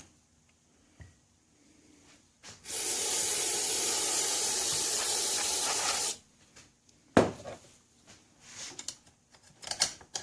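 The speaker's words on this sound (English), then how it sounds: "We'll pull the jets and we'll blow everything through. We'll take some compressed air." Compressed air blasts through the carburetor jets of a 1987 John Deere SX75 lawn tractor: one loud, steady hiss lasting about three and a half seconds, then short clicks and handling noises of the parts being moved.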